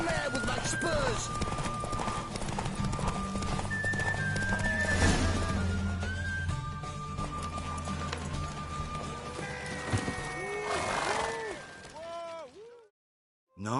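Galloping horse during a race in The Witcher 3, with rapid hoofbeats, whinnies and a voice talking over them, all loud and close before cutting off abruptly near the end.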